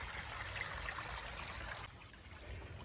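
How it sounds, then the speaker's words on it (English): Creek water running beneath a fallen tree, a steady soft trickling and gurgling stream flow, faint and continuous, with no voices. "now the water is flowing directly underneath the tree"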